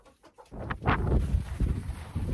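Chickens cluck and murmur close by in a cold winter coop, with a few soft bird calls over a low rustling background.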